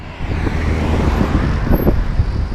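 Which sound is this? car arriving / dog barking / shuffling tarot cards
car arriving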